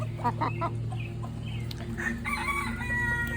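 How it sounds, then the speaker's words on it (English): Silver Laced Wyandotte chickens cluck and murmur in a coop, with short calls rising over a steady low hum of background noise. "that's a silver lace Wyandotte"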